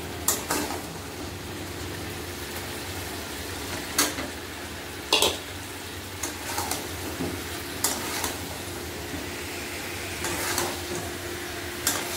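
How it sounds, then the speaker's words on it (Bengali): Vegetarian khichuri cooking in a pan and stirred at intervals, a steady soft sizzle broken by periodic scraping strokes of the spoon, close and fairly quiet with no voices. "বন্ধুরা দেখো আমাদের খিচুড়ি হচ্ছে"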